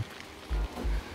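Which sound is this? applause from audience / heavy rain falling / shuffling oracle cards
heavy rain falling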